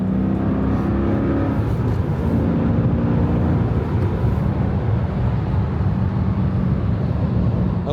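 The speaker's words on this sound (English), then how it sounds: "y'all can just watch some shifter action and listen to that nice V8" A Mercedes CLK55 AMG with its V8 engine and a swapped-in manual gearbox drones loudly and steadily up close, its rumbling tone shifting in pitch as the driver works through the gears.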